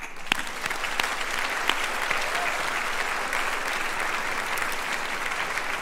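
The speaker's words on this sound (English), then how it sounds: "it's going to be you applauding to all your beloved ones up there" Graduation ceremony crowd applauding continuously, a dense, even wash of many hands clapping at close range with no break.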